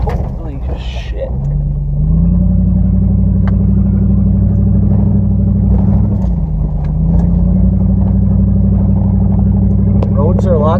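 A camper truck climbs a sandy old mountain trail, its engine rumbling steadily and loud up close, rising in pitch as it accelerates around two seconds and again near seven, with faint voices briefly over it.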